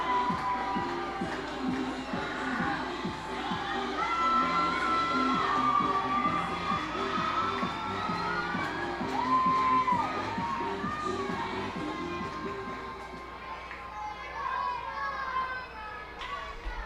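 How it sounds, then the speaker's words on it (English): Minor league baseball crowd at a Reading Fightin Phils home game against the Portland Sea Dogs, with the bases loaded in the bottom of the sixth, swelling into loud, sustained cheering and shouting that stays steady throughout. "the crowd getting loud here as McCarthy Tatum heads up to the plate"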